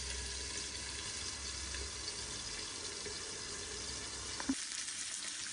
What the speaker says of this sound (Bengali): মাছ একদম ক্রিস্পি করে ভাজা হয়ে গেছে